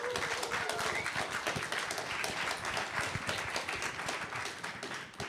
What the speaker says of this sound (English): Senator Ben Allen, round of applause, please.